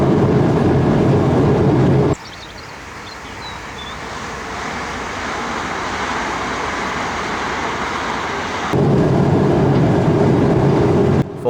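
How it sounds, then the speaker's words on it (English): A C2C passenger train crosses a viaduct over a dyke, heard from the cab: loud rolling rumble that suddenly drops to a softer, airy rail hiss while over the structure, then returns to the heavier roar, with no talk. "This viaduct takes us over the Dyke."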